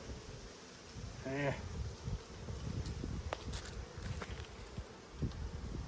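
Honeybees hum steadily around an open hive during a late-autumn inspection before winter, a soft continuous buzz with occasional louder passes and faint rustling of frames.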